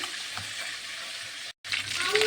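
Chicken pieces frying in hot oil, giving a dense, close, steady sizzle with a brief silent gap midway before the crackling resumes, louder and bubbling.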